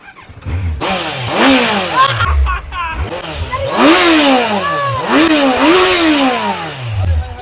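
Kawasaki Z900 motorcycle engine revving repeatedly in neutral, loud and close, with several rising and falling throttle blips in a steady rhythm.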